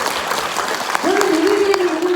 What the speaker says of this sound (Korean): 박수 한번 드릴게요.